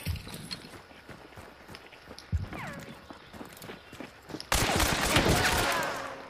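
Gunfire in the Hunt: Showdown video game, a fusillade of distant-sounding shots with footstep-like thumps, swelling into a louder, dense burst of noise in the last two seconds.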